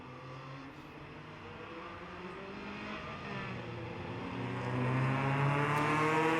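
E-Production race cars at the 2019 SCCA Runoffs warm their tires on track, several engines droning together at a distance and slowly rising in pitch and loudness.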